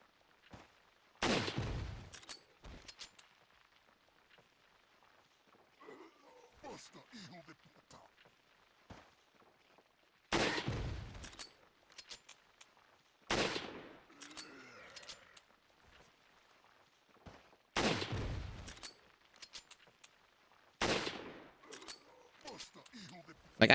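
Gunshots in Resident Evil 4, sharp loud single blasts spaced several seconds apart, about six in all, with quieter game clatter and a voice talking between them.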